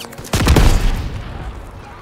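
A loud, close burst of machine gun fire from a German MG firing out of a farmhouse hayloft during the D-Day beach landing in Call of Duty WWII, ringing out into a long echoing tail.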